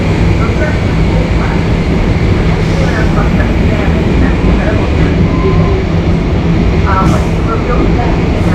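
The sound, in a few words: Rocky Mountaineer train running through a tunnel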